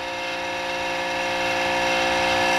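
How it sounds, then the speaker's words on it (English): Electric motor of a homemade automatic dog feeder turning its auger bit to push out food: a steady close mechanical whir that grows slightly louder as it runs, alone with no voices. "as soon as I plug it into the wall, the motor starts spinning"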